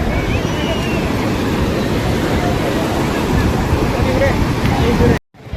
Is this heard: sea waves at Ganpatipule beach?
yes